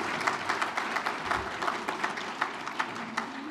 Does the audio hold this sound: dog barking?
no